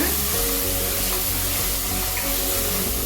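Steady, loud sizzling hiss of ingredients being sautéed in hot oil for Kongunadu-style white mutton biryani, continuous and close with no talking.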